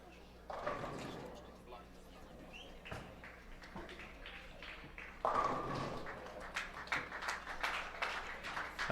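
An audience gives a round of applause at a women's bowling match-play event. Scattered clapping builds over the second half beneath a commentator's voice.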